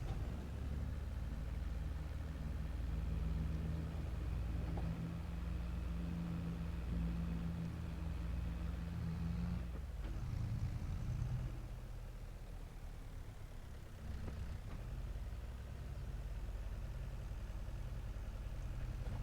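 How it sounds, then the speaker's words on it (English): Mahindra tractor engine in Farming Simulator 22 droning steadily at a moderate level, with a brief change in tone partway through before settling back into a continuous hum. "So far, this little Mahindra has been a wonderful little tractor for us."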